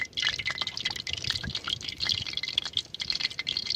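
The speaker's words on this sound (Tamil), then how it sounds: "எண்ணெய் இப்போ ஹீட் ஆகிட்டு இப்போ நம்ம போண்டாவை போடலாம்" Onion bondas fry in hot sesame oil, crackling and spitting in a dense, busy stream of close bubbling pops that rise and fall without pause.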